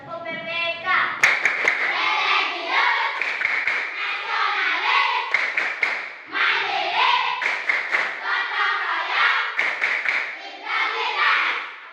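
A class of schoolchildren claps in sharp bursts alongside lively children's voices, with rhythmic hand claps standing out among chanting and speech close by.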